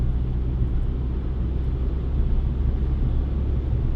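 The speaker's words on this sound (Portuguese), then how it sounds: "vou acelerar a fundo agora" A car in fifth gear pulling at full throttle from 80 to 120, its engine a steady, loud low rumble that holds without a break throughout.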